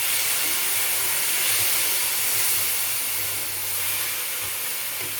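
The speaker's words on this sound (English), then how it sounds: "Just listen to that sizzle." Chopped tomatoes tipped into a hot pan for Moroccan stuffed aubergine give a loud, steady hissing sizzle that runs unbroken, close up and alone.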